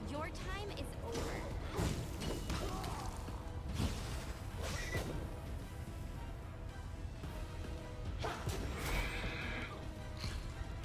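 A horse neighs and whinnies amid hoof clatter and combat crashes in the fantasy role-playing game Pathfinder: Wrath of the Righteous, with voices talking over the dense, continuous game noise.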